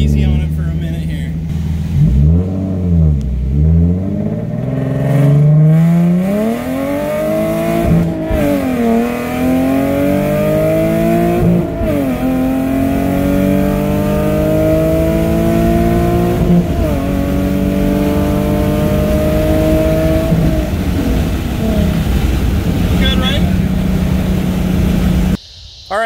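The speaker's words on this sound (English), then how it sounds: "He just drove his 370 after getting it tuned and us installing the exhaust on it." A tuned Nissan 370Z with a VQ engine and loud aftermarket exhaust revs and accelerates up close, the engine note climbing and falling through repeated pulls with deep, booming exhaust tones, while people talk in the cabin over it.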